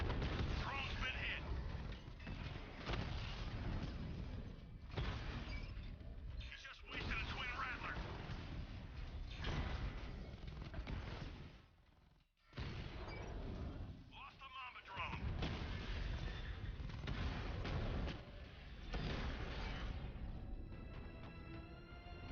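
Heavy cannon shots and rattling gunfire from the Batmobile in tank mode fill a Batman: Arkham Knight battle, repeated booming bursts with mechanical clatter, under someone talking.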